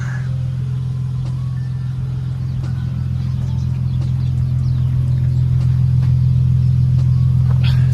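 Loud, steady drone of a BMW E46 engine idling nearby, a deep even rumble that swells slightly toward the end, with no talking.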